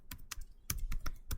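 Keys clacking on a computer keyboard in short bursts of about seven distinct strokes, close and fairly clear with an irregular rhythm, no voices.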